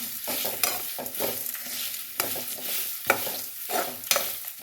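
Curry sizzles in a pan as a spoon stirs it in repeated scraping strokes, each pass rising over a soft continuous frying hiss, with no voices.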